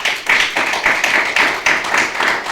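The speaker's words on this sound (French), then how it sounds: "que je vous demande d'applaudir." An audience at an African awards ceremony claps for an honoree, a brisk run of overlapping handclaps in quick pulses, fairly close and steady for a couple of seconds, with no voices over it.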